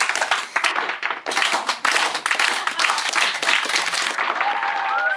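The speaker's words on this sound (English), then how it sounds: "Slow clap." A group of people clapping, a slow clap that quickly swells into dense, fast applause heard close, with no talking over it.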